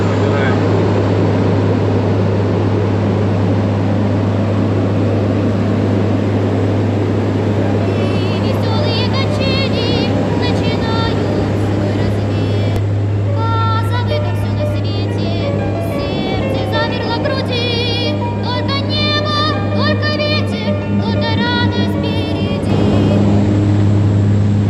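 Inside the cabin of a Qazaq Air passenger jet taking off from Almaty, a loud, unbroken engine roar fills the whole stretch, with whining tones rising partway through and faint voices in the cabin.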